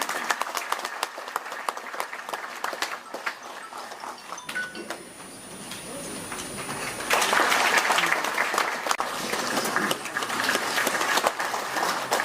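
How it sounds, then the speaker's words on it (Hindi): Audience applause at a formal government event in Jammu and Kashmir, a broad steady wash of clapping throughout that swells louder and denser in the second half, with the crowd filling the room. "तो इसके लिए जोरदार तालियां"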